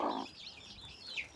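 A brief, soft cluck from a brooding hen sitting on hatching eggs, followed by faint high chirps, quiet and close with no talking.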